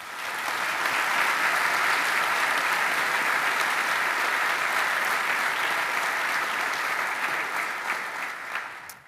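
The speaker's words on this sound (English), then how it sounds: "Let's give all the volunteers who worked on this project a big round of applause" A conference keynote audience gives a sustained round of applause for project volunteers, a dense, even wash of clapping that holds steady for several seconds before tapering off.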